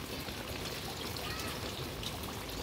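Water pours and trickles in a soft, continuous stream over guavas being washed, with a faint, steady splashing.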